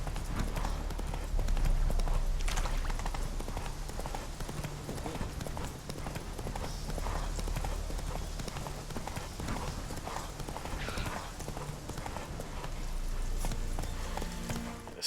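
Horse hooves in The Witcher 3, a steady galloping clip-clop that runs continuously at close range while a voice talks intermittently over it.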